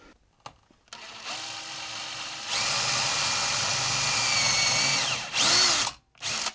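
A cordless drill with a 5 mm bit whirs steadily, stepping up to a higher speed, then stops, followed by a couple of short buzzing bursts and clicks.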